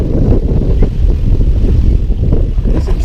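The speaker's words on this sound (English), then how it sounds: "There's some serious wind going on here." Strong wind buffets the microphone in heavy, rumbling gusts on a boat crossing Bocagrande Bay in Cartagena, loud and continuous throughout.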